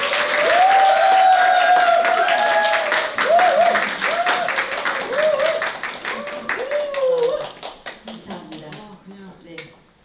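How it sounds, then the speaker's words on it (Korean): Applause welcomes a staff minister at a church parents' school session, a dense patter of many hands with a voice speaking over it, the clapping thinning out near the end. "저희 박수로 환영하면서 시작하겠습니다"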